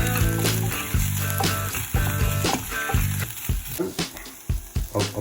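Garlic frying in a pan for barbecue chicken wings, a steady close sizzle with repeated sharp stirring scrapes and clatters over background music.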